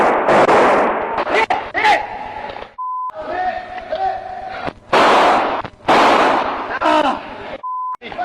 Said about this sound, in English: we hear more gunshots, so we don't know if that's police or the suspect